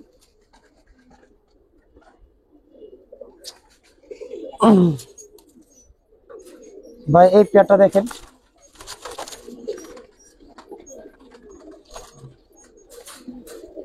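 Giribaz pigeons coo in a few short bursts, the loudest two in the middle, close by, with someone talking intermittently between and over them.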